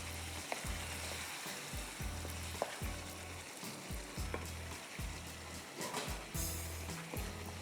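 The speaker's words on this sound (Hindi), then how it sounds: "भूनूँगी इसको।" Murgh Nargisi masala with yogurt and a splash of water frying and sizzling steadily in a pan, a continuous loud crackle with rhythmic stirring scrapes recurring roughly every half second throughout.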